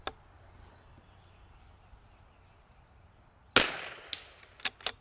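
A rifle shot fired at a range rings out as one sharp, close crack followed by a few quicker clicks and knocks, after a quiet stretch with a faint early tap.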